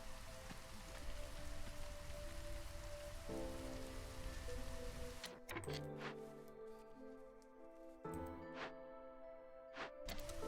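Drizzle rain in Against the Storm, a steady soft patter of raindrops on surfaces that fills the first half and then turns sparser with scattered ticking drops, quiet and with no talk.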